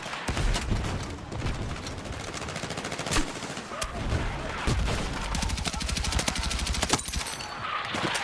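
Rapid gunfire from a beam-style weapon in Battlefield 6 rattles in dense, sustained bursts with sharp cracks and occasional heavier booms, loud and close amid general battle noise.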